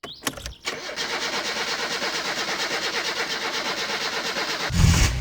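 A car engine in a game cranks briefly, catches after a few sharp bursts and settles into a steady, rapid idle rhythm, then is joined near the end by a low thump.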